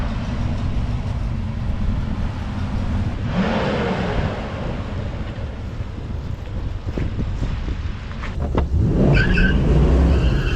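Ford Mustang launching down a quarter-mile drag strip at high elevation, a loud engine roar that builds and shifts, with wind buffeting the microphone throughout and a harder surge near the end.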